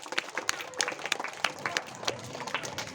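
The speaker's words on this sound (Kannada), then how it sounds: "ಚಪ್ಪಾಳೆ ತಟ್ಟುವ ಮೂಲಕ ಸ್ವಾಗತ ಕೋರುತ್ತಿದ್ದೇನೆ" Audience applause at an inaugural function of a Sainik Training Institute, welcoming guests: dense, steady clapping from a crowd, with sharper individual claps standing out through a continuous patter.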